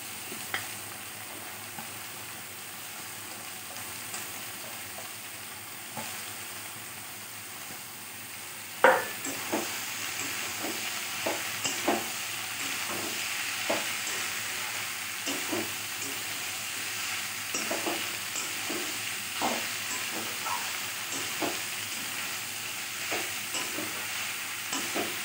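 Ash gourd and softened tomato fry in a pan with a steady sizzle, and a spoon scrapes and stirs it in repeated clinks; a louder clatter comes as the gourd goes in, then close, continuous hissing.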